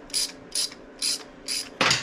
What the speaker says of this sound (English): So, we're gonna take out all these Allen screws. It takes a 3/16 Allen wrench.